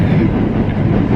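Subway train running on a commuter line in Japan, a dense steady low rumble of wheels and car noise, close and fairly loud, with no talking.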